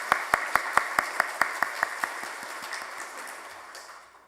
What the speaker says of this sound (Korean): 우리 마음을 담아서 큰 박수로 축복하겠습니다